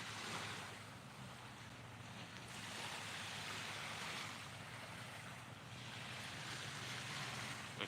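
Ocean waves wash onto a beach at night as a continuous low roar of surf, rising and falling in slow swells with wind noise on the microphone and no voices.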